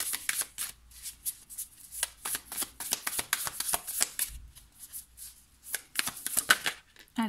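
Tarot cards are handled and shuffled while a reading is drawn, giving a close, quiet run of crisp riffles and flicks in uneven bursts with short pauses between them.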